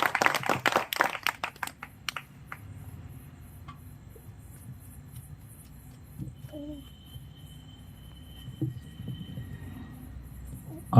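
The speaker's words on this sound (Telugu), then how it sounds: "అందరూ ఇంకొకసారి బిగ్గరగా చప్పట్లు కొట్టి ఆహ్వానిస్తాం పాస్టర్ కుర్బాన్ సింగ్" A church congregation at Penukonda Church clapping to welcome the pastor: a brief burst of loud, dense applause that quickly dies away, leaving the quiet hum of the hall with a few faint sounds.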